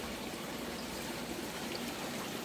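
Creek water trickles and streams steadily through a small channel being cleared of debris, a constant close wash of flowing water with no voices.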